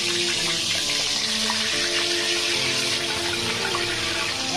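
Cauliflower coated with turmeric and salt fries in hot oil for home-made biriyani, producing a steady, dense sizzling hiss that stays loud and even throughout.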